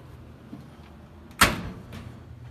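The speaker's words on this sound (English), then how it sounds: "Close the door, turn the dryer on high heat." A single soft thud of a clothes dryer door shutting, brief and close, against a quiet background hum.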